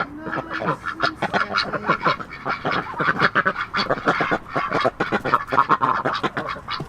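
Ducks quack and honk inside a chicken house bedded with chopped rapeseed straw, a dense, rapid chorus of nearby calls that keeps going throughout.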